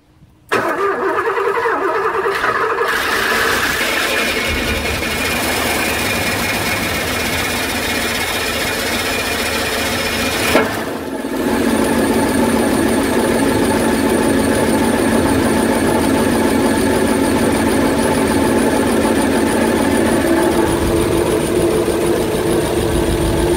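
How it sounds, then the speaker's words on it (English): A Porsche 928 engine starting for the first time in 17 years: cranking, then catching and running at a steady, loud idle, with a brief dip midway before settling into a continuous rumble. "what you're about to hear next is the car being started up for the very first time in 17"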